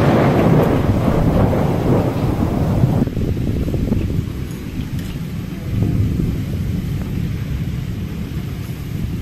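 Thunder rumbles through a heavy rainstorm, a loud, continuous low roar mixed with wind buffeting the microphone and steady rain noise, easing slightly after the first few seconds.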